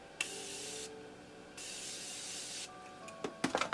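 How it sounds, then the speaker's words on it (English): Setting spray misted onto a face, several short bursty hisses with brief pauses between, close and fairly soft, followed by faint rustling. "I'm going to spray first so all of this settles in."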